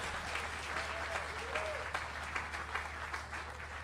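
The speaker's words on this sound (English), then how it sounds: "how about a round of applause for those?" A seated audience at a city State of the City address claps steadily in a moderate, continuous round, with a low hum underneath and faint voices briefly rising within.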